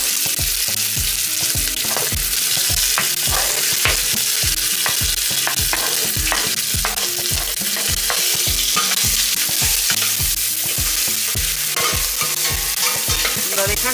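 Chiles, garlic and onion sautéing in a pan, a continuous loud sizzle broken by rhythmic scraping strokes of stirring, close and with no talk.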